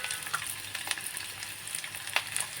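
Onion and garlic fry in hot oil, giving a soft, steady crackling sizzle close by, with occasional faint clicks of stirring and no talking.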